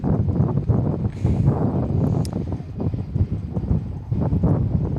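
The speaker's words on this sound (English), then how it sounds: "Oh, the wind." Gusty wind blowing across the open apron at Gold Coast Airport, a steady loud rumbling buffet against the microphone that rises and falls in waves with no clear talk.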